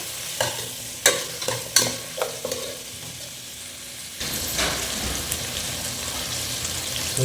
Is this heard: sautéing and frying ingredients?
yes